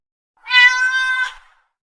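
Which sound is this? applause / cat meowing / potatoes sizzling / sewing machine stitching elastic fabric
cat meowing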